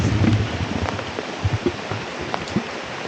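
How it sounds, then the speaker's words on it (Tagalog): Heavy rain falling in a forest in Quezon Province, a steady hiss of downpour with scattered louder drops and low thumps close by, no talk. "Lumakas pa yung ulan."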